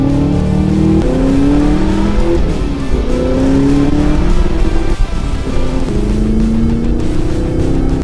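A Chevrolet Silverado ZR2 fitted with a full Borla S-Type exhaust system drones loudly and steadily while driving. The engine note rises and falls in smooth revving sweeps as it shifts through gears, with no talk over it.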